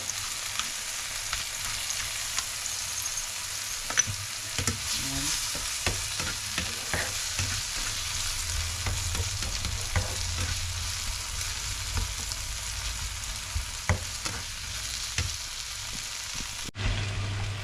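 Tomatoes and onions fry in a pan, seasoned with black pepper, giving a continuous moderate sizzle with scattered scraping and stirring knocks over the whole stretch, ending with a brief cut, and no talking.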